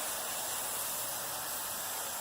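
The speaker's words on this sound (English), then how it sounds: "Hold your breath while I spray." Lubricant spray hissing steadily into a Brother card reader during cleaning and servicing, a continuous close aerosol hiss lasting the whole stretch with no talk over it.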